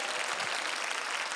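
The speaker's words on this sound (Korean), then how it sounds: "하나님께 뜨거운 감사의 박수를 던집시다" Crowd applause at an outdoor prayer rally at the War Memorial's peace plaza in Yongsan, Seoul, a brief burst of dense, steady clapping from many people, moderately loud and without speech.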